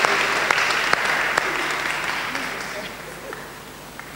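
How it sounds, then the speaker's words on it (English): An audience applauding at an indoor fireside chat event, sustained clapping from a mid-sized crowd that gradually thins and fades over a few seconds. "A round of applause."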